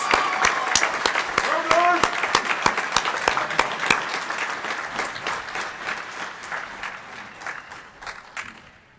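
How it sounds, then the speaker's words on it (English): Applause from a graduation audience honouring welding graduates at the Advanced Technology Institute, dense clapping filling the hall and slowly thinning out toward the end. "If we could get one last round of applause for those welding graduates."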